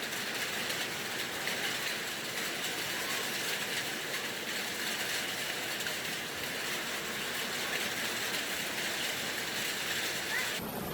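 A hailstorm with heavy rain and strong wind in Lampung Barat makes a constant, dense roar of falling ice and water, steady and loud throughout with no pauses.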